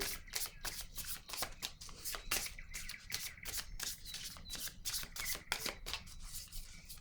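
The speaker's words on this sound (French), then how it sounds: "Je vais déposer une carte ici pour le masculin." Playing cards shuffled and handled during a tarot-style reading, with quick papery riffles and soft slaps as cards are laid down, close and moderately quiet, in an irregular rhythm.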